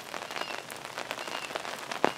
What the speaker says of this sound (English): in the rain with an umbrella over the camera here.